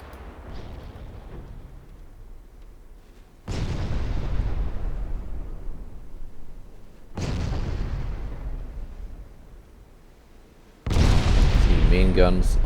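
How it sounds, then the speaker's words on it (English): Torpedo hits and explosions striking a warship in the naval game Ultimate Admiral: Dreadnoughts; three heavy, booming blasts arrive seconds apart, each decaying slowly into rumble, with a fourth louder, crackling burst at the end. "your ship takes a spread of big caliber, long range, stealthy torpedoes"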